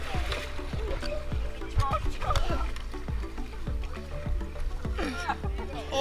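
A raft paddled through water in rough, uneven strokes, with splashes and sloshing close by while people talk and call out over it.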